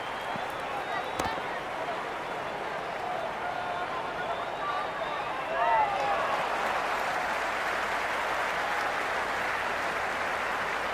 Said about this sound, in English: You can really feel the buzz around the spectator areas.